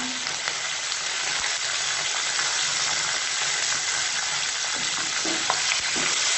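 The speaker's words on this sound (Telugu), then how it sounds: "అందులో కొంచెం కరివేపాకు, 1/2 స్పూన్ ఇంగువ," Curry leaves and asafoetida sizzle loudly in hot oil for pulihora, a dense, steady frying hiss close by with faint stirring taps underneath.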